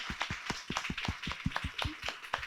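A lecture audience claps for a colleague's birthday, a brisk, uneven patter of hands with soft thumps and slaps, moderately close, with no voices over it.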